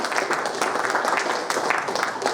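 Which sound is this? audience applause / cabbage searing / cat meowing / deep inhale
audience applause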